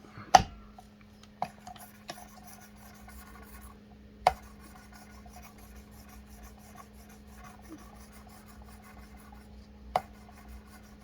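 A knife drawn along the abrasive stone of a Work Sharp Precision Adjust sharpener, giving soft, steady rasping strokes punctuated by a few sharp clicks and taps, close and quiet with no talking.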